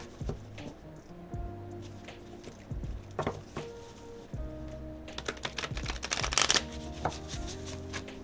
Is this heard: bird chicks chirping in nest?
no